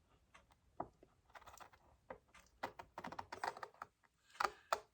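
Scissors make a short run of crisp, irregular snips through paper while trimming a small piece for a papercraft project. The snips are close and clear, with brief pauses between the cuts.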